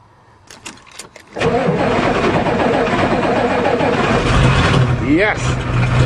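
A few clicks, then a Ford truck engine with no exhaust cranks briefly and catches, settling into a loud, steady running rumble close by, with a short voice near the end.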